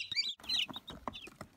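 Newly hatched Brahma chicks from an incubator cheep in a close, busy cluster, high thin peeps overlapping in quick bursts with no voices.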